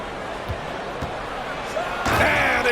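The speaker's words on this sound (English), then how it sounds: "And it's slammed in by Durant." A virtual basketball is slammed through the rim by Kevin Durant in NBA 2K23, a sharp impact followed by rising crowd roar and squeaking sneakers, after a few dribble bounces.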